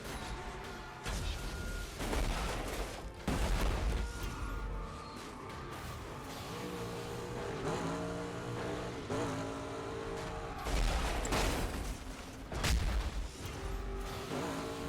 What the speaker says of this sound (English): I love how like the sounds of like car crashes in this game sound like bombs going off